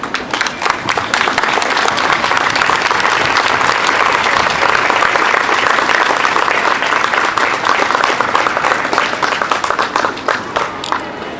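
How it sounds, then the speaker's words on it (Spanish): A standing audience gives loud, sustained applause honoring Benco Biojó and San Pedro Claver, dense rapid clapping from many people close by, continuous for the full span with no talking. "nosotros nos pongamos de pie y aplaudamos a Benco Biojó"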